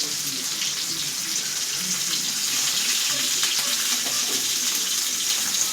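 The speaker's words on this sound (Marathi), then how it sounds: "तेलामध्ये नॉर्मली आपल्या तेलामध्ये फ्राय करून मी घेते" Fresh shingata fish sizzle in shallow oil in a pan. The frying hiss is loud and continuous from start to finish, with faint kitchen noises now and then.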